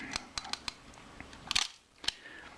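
A Kodak Retina Reflex III camera with a jamming shutter mechanism gives sharp mechanical clicks and ratchets as its shutter is cocked. There are about seven crisp snaps spread unevenly, close up, including one quick burst of rattling clicks.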